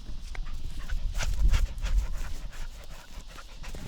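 A puppy pants rapidly and close by in a quick, breathy rhythm, with a few soft scuffling sounds.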